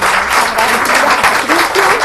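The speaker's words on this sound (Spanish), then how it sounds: "un aplauso para agradecer" Audience applause at a psycho-spiritual seminar, a steady dense wash of many hands clapping throughout, with a voice faintly speaking underneath.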